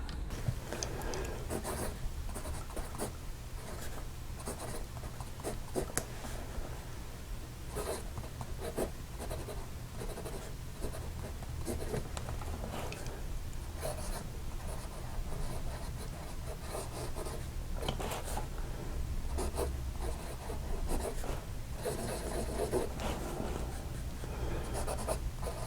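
A fountain pen fitted with a 0.7 duckbill nib scratches steadily across paper, a close, continuous dry rasp with small ticking strokes that runs for the whole stretch with no one speaking.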